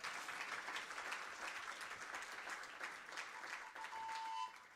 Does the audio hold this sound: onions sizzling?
no